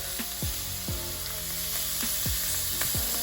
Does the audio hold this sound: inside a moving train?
no